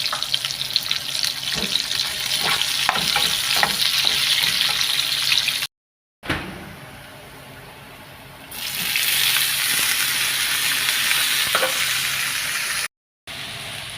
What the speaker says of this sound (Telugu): ఉల్లిపాయలు అయితే బాగా కొంచెం మగ్గిన తర్వాత అయితే ఇప్పుడైతే కరివేపాకు వేసుకున్నాం.